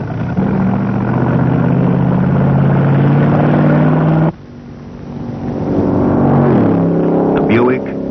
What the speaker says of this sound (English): The Buick goes on and on, hour after hour.